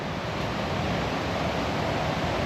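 Dawlish Water river in full spate after heavy rain, a dense, loud, unbroken roar of rushing water heard up close from a bridge, with no voices.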